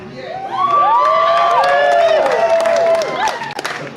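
A lively crowd at Universal Studios cheers, whoops and shouts over scattered clapping, the roar sustained and close for several seconds before it fades.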